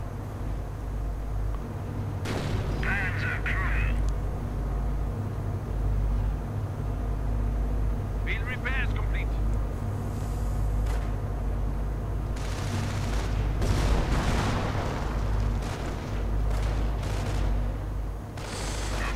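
Mortar rounds and gunfire in a World War II strategy game, heavy thuds and rumbling blasts over a continuous low battle drone, with a cluster of explosions building toward the end.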